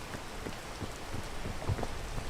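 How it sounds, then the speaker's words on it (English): Rain falls in the video game Peak: a soft, even patter that is fairly faint, with scattered heavier drops and no voices. "Started raining at the perfect time for me to make zero progress up that slope."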